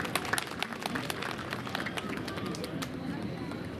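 A school crowd applauding a performance by senior secondary schoolgirls at a Republic Day function, dense sustained clapping mixed with crowd murmur.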